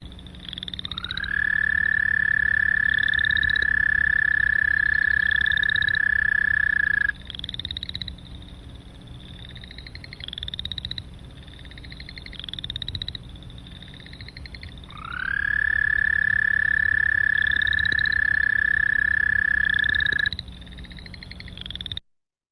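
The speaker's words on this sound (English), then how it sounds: "the American toad with that really long monotonous trill" Long, monotonous American toad trills ring out steadily, one continuous buzzing call lasting several seconds, repeated after a pause, with other chirping frog calls overlapping.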